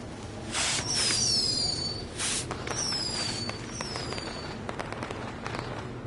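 Fireworks bursting in the WWE 2K20 video game: repeated loud crackling booms with whistling streaks, several bursts in succession over a few seconds, with no talk.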